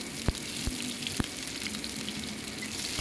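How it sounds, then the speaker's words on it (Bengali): Chopped onions fry in hot oil with dried chillies and black cumin, giving a steady close sizzle with a few sharp crackles and pops scattered across it. "এবার পেঁয়াজ কুচিটাকে একটু ভালো করে লাল করে ভেজে নেবো।"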